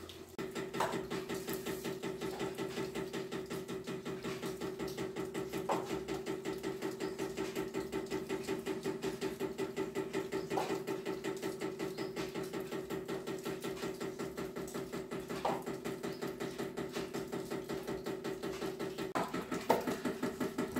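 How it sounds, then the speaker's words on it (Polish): Water dripping onto an old metal pipe in an abandoned 1932 Alpine swimming pool building at Semmering, Austria, producing a faint, steady, engine-like mechanical hum with soft intermittent knocks, no voices. "ten dźwięk jakby pracującego silnika to jest woda kapiąca na jakąś starą metalową rurę"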